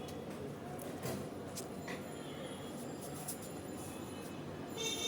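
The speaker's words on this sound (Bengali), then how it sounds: "ট্রেনের আওয়াজ শুনতে পাচ্ছ?" A train passes at a distance, its steady rumble of wheels and carriages running continuously and fairly evenly throughout.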